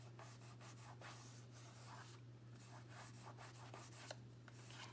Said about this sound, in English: rubbing some of that extra glue I got up there